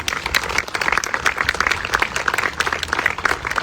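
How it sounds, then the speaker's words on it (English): Steady applause from an audience at a 9/11 remembrance and first responder ceremony, many hands clapping continuously at an even level throughout, with no voices standing out. "Let's give them all a round of applause."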